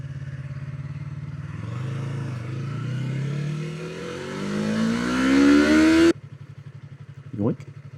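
A loaded touring motorcycle on the road shifts down through its gears, the engine note dropping and then climbing as it revs up, loud and close, before cutting off abruptly, with a brief voice afterward.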